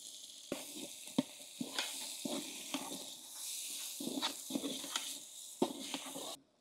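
Chopped onion, ginger, garlic, green chili and curry leaves fry in hot oil in a pan for dhaba-style dal tadka, giving a soft, steady sizzle broken by the scrape and clink of stirring.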